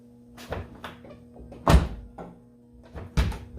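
The door of a Chevy pickup thuds shut several times after a new latch and lock are fitted, with sharp, close slams spaced a second or so apart and softer knocks between them in a quiet garage.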